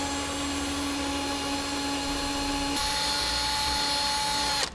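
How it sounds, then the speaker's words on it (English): A power drill whines steadily while boring a hole into a steel truck frame, its pitch stepping up midway as the hole is enlarged to 1/2 inch, then stopping abruptly at the end. "drill out a 1/2 inch hole here"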